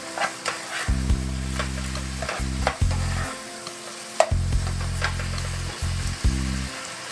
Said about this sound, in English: for more of a tomato flavor, I'm going to add 2 tablespoons of tomato paste.